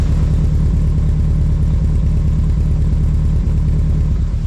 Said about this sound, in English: Exhaust sounds alright at idle.